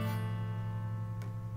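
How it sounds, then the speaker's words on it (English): A sustained guitar chord with the pinky added to the fingering, ringing evenly and close, with a faint brighter pluck or scrape near the end and no talking. "And you can add that pinky in there."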